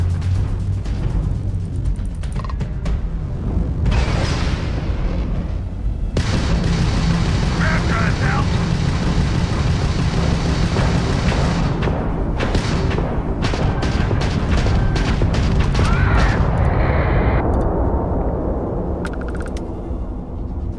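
Spaceship weapons fire and explosions in Starfield rumble as loud, continuous booms and bursts with sharp cracks over a dense low roar, while a voice speaks over the din.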